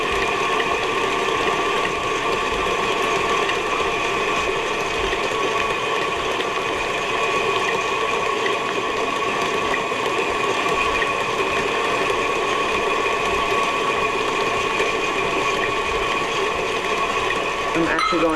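An electric mixer creams butter with two cups of white sugar in a continuous, steady motor whir close up, running without a break throughout, with a person talking over it.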